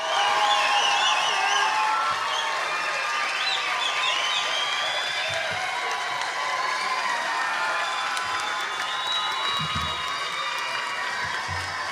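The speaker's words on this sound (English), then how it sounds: "if you could please give a round of applause for the County College of Morris nursing class of May 2025" Sustained applause and cheering from a large crowd at the County College of Morris nurse pinning ceremony for the May 2025 nursing class, with shouts and whoops carrying over continuous clapping for the whole stretch.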